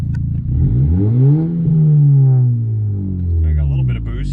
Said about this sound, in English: I got a little bit of boost, just revving it.